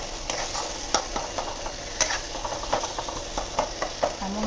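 Egg masala curry fries and is stirred in a pan, a steady sizzle broken by repeated scraping strokes and occasional clicks of the spatula against the metal, close and moderately loud with no talking.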